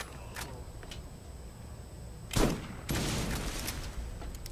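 Gunfire in the video game Borderlands during a firefight in a tunnel near explosive barrels: a sharp burst of shots, then a quick follow-up volley, fairly faint against a low background hum.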